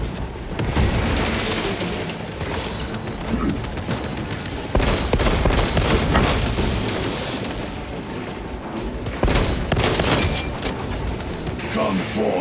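Loud gunfire runs throughout a Warhammer 40,000 Space Marine 2 firefight, broken by heavy explosive booms from a deployed crack grenade. The blasts land near the middle and again toward the end, and a voice comes through at times.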